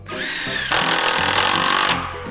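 A power tool runs steadily, loud and close, with one sustained burst rising partway through, while boards are tacked in place to frame a clubhouse.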